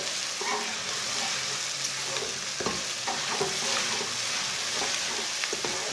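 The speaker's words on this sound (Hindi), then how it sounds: "लहसुन को भी 1 मिनट तक पका लेंगे।" Crushed garlic sizzling and frying in a pan with browned onions, a steady close crackle with occasional stirring scrapes and clinks, no talking.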